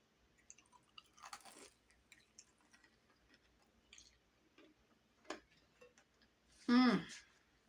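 Crunchy fried chicken wings being chewed in a few scattered bites, with one loud crunch near the end; faint quiet sounds fill the gaps between bites.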